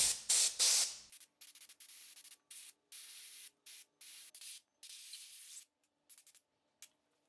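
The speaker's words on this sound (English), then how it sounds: "Even when using an air compressor, they can be a bit stubborn." An air compressor blows short bursts of air to slip tight-fitting flat bicycle handlebar grips on, giving a dozen or so close, loud hissing blasts separated by brief pauses and ending with a few shorter puffs.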